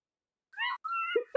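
A cat meows twice in quick succession, clear and close, with a brief voice sound at the end.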